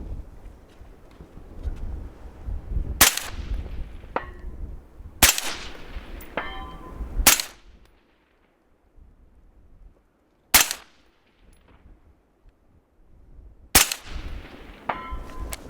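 Rifle shots fired from the prone position at steel targets 300 meters away on an outdoor range, five sharp, loud cracks spaced a few seconds apart, each followed by a faint distant ring, over light wind noise.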